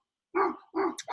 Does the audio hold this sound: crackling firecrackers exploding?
no